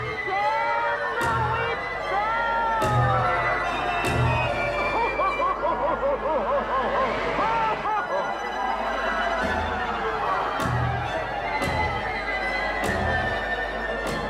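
A mob in a crowd scene about a witch, voices shouting and jeering over dense, continuous layered crowd noise with periodic sharp accents, loud and near throughout the whole stretch.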